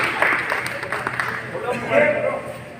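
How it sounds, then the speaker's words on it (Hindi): An audience at a Birla Chetak cement company training session for masons and contractors applauds their engineer, a steady wash of clapping that continues under a voice talking over it. "राकेश जी के लिए एक बार तालियां हो जाए भाई साहब"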